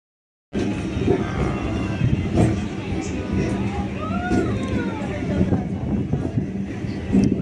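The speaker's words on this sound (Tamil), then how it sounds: "ஒரு வழியாக ட்ரெயின் கிளம்பிச்சு கைஸ்." An electric train in Hyderabad pulls away from Hafeezpet station, a steady rumble with wind and rising tonal whine, continuous and fairly close, with faint voices in the background.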